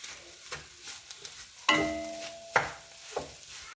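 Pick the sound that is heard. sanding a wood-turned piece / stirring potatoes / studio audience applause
stirring potatoes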